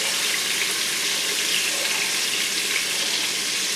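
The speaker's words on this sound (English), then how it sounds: "Brown the bits on all sides." Beef browning in an Instant Pot for boeuf bourguignon, giving a steady, bright hiss and sizzle that runs unbroken and fairly loud from start to finish with no talk.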